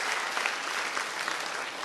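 Audience applauding for commerce students at a professional education event, dense steady clapping from many hands filling the room throughout the short stretch.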